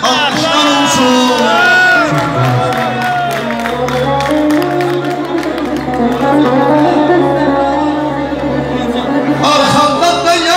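Wedding guests at a celebration cheer, whoop and clap loudly for the groom, a dense crowd roar under music and shouting voices that holds steady for about ten seconds.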